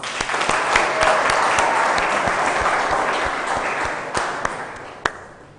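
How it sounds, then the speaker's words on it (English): An audience claps in a steady round of applause for a speaker about to give a talk on machine learning, dense and continuous throughout before tapering near the end with a few last claps. "A round of applause, please."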